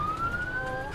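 Ambulance siren wailing in a steady rising tone over a low vehicle rumble, heard briefly and fairly prominent, with no talk.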